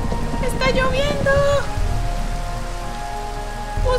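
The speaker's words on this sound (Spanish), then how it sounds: "¡Ay, no! ¡Está lloviendo!" Steady rain falling in a Roblox game, a constant hiss under excited children's voices and game sounds throughout.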